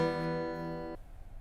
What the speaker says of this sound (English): Acoustic guitars are basically just hollow boxes with strings, and they sound like this.